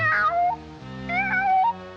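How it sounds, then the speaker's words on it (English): Cartoon cat meowing, two clear drawn-out meows in a row, loud and close with nothing else heard. "I'm that hungry little kitty cat you just read about."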